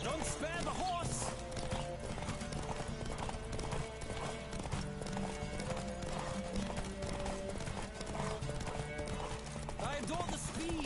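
Horse hooves clip-clopping at speed in The Witcher video game, a steady rhythmic gallop with an occasional whinny, loud and continuous under game music and someone talking throughout.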